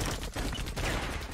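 Rapid pistol shots in the free-to-play shooter EV.IO, a dense burst of gunfire filling a short moment, loud and close with no talk.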